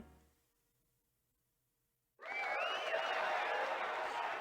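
A crowd in the video game Persona 4 Arena bursts into loud, sustained cheering and applause after a brief quiet stretch.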